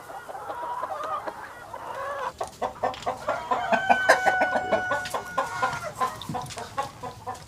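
Farm chickens cluck in quick bursts while a rooster crows loudly and close, the calls layered and rising over a busy barnyard background with no talk.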